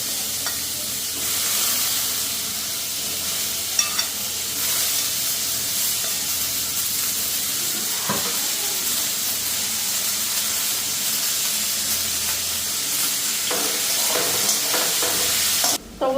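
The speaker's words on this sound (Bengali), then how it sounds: "তিতা করলা ভাজু একটু বেগুনও দিলাম তিতা করলার মধ্যে" Sliced bitter gourd and eggplant fry together in a pan, a steady loud sizzle and hiss with occasional stirring scrapes and clinks throughout, no voices over it.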